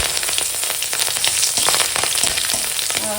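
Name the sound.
green chillies and black cumin frying in hot oil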